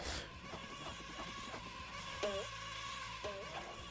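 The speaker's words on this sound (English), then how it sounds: "I can hear the bees buzzing around" Bees buzzing in SpongeBob SquarePants: Battle for Bikini Bottom – Rehydrated, a faint, steady insect drone under game ambience, broken by a few short tonal game chirps.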